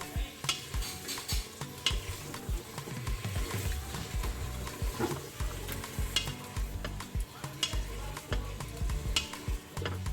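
Meat and bottle gourd curry sautés in a pan for kaddu gosht, with a spoon repeatedly scraping and stirring over a continuous close frying sizzle.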